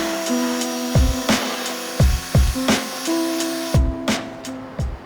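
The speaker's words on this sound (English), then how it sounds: "So I'm just gonna get it off with the drill and a little nylon wheel on here." A drill spinning a nylon wheel strips bark from a white oak slab, a steady grinding whir broken by repeated short scraping bursts as the wheel bites into the wood.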